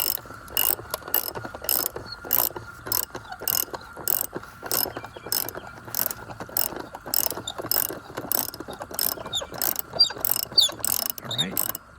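A pool filter housing being loosened by hand, a rapid series of ratcheting clicks in uneven bursts over steady handling noise, close and fairly loud, with no talk.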